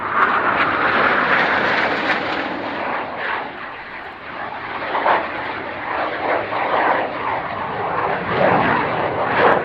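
Formation display team of aircraft sweeping past in a bomb burst, a loud continuous roar of several engines swelling and fading as the jets pass overhead, with broad rumbling noise throughout and no voices.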